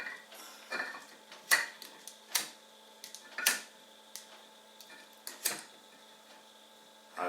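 A camping stove being lit for priming gives a run of sharp, irregular clicks and ticks close by, spaced about half a second to a second apart over a low, steady background.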